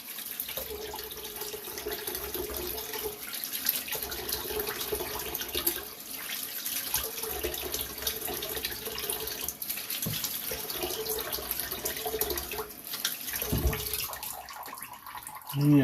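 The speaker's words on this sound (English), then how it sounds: "I'm gonna go ahead and rinse off my head." Running tap water splashes steadily as a shaved head is rinsed under the faucet after a haircut and razor shave, a continuous close wash with brief shifts in the flow.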